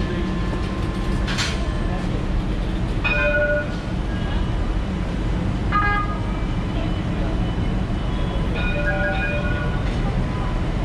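An Alstom Citadis tram on Istanbul's T1 line rumbles past close by at Laleli with a steady low roar, several short bell-like chimes and tones sounding over the running noise.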